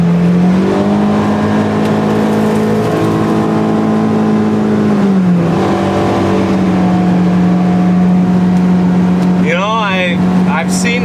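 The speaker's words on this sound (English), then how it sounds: "So I'm gonna drive down the road and see if I can see it." A vehicle driving along a rural farm road, its steady engine hum running loud and continuous throughout, with a brief chirping sound near the end.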